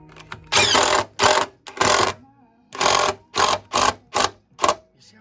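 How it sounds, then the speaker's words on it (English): A power driver sinks screws into a wall while shelf brackets are fitted, giving a series of about seven loud whirring bursts, each roughly half a second long with short pauses between them, close by. "Screw that in."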